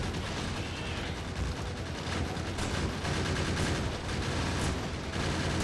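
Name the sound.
gun turrets firing at worms in the video game Factorio Space Age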